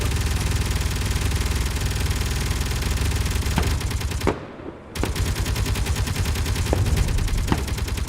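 Guns fire in the Space Engineers video game, a loud continuous rapid-fire rattle that breaks off for about half a second and then resumes with a few sharper cracks.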